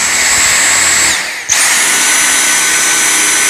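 A Dyson V6 Totalclean cordless vacuum cleaner runs on its max setting with a loud, steady high-pitched whine, briefly dipping in pitch and level mid-way before resuming full power.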